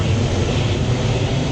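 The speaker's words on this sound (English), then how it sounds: "there's a plane flying over" A fixed-wing airplane passes overhead outdoors, its engine a steady, broad low drone that holds at an even level throughout with no talk over it.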